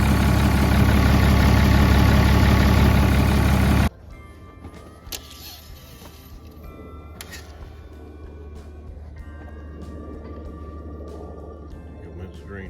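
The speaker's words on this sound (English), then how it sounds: "Now we're gonna test start it and look for any leaks after I hop down." 1995 Ford F350 with the 7.3 diesel engine starting up and settling into idle, a loud dense roar for the first few seconds dropping to a steady, quieter idle.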